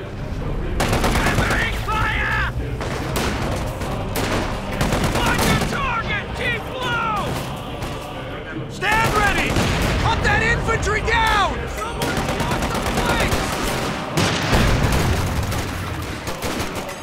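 Dense bursts of rapid gunfire and machine-gun bursts from the World War II strategy game Company of Heroes, loud and continuous with overlapping shots and shouted battlefield voices throughout.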